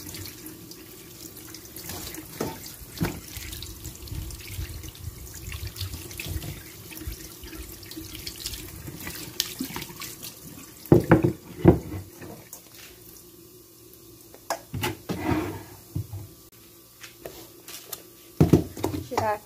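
Tap water runs into a sink while raw beef is rinsed in a small washing basin, a steady faint stream broken by splashing bursts and clattering handling noises, with someone speaking at times.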